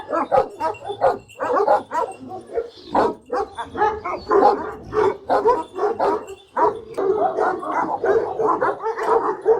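Several Kangal dogs, adults and puppies on a breeding farm, bark and yip in dense, overlapping bursts, fairly close and loud, with some whimpering mixed in throughout.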